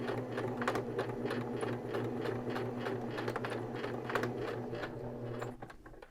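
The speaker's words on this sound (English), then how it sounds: "back stitch all the way across, and I'm going to do that about 3 or 4 times" A sewing machine back stitching across fabric while making a hair scrunchie, a steady close-up whirring hum with rapid needle ticks running continuously before it winds down at the end.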